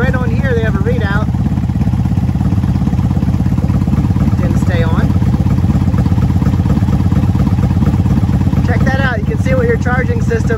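A 1995 Honda Magna VF750C motorcycle engine runs loud and close in a steady idle, with a few rising revs, while someone talks over it throughout.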